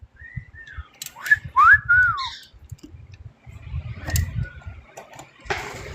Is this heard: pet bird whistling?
yes